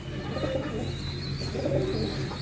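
Free-flying pigeons coo in low, repeated throaty calls that run steadily throughout, with no talking over them.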